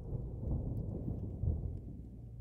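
Thunder in the horror game Faint Call rolls as a continuous deep rumble with a swell midway, heavy and low throughout, with no voices.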